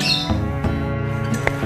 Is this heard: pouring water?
no